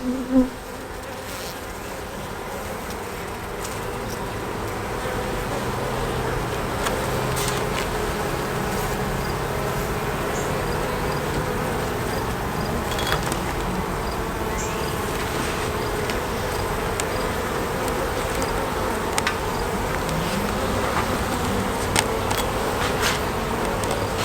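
Honeybees buzzing around a beehive, a dense steady hum of many insects up close, with individual bees zipping past the microphone and occasional faint handling knocks.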